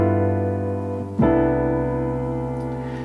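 Jazz piano plays a ii-V-I chord progression, one sustained voiced chord ringing and decaying before a second chord is struck and left to sustain, played alone with no talking.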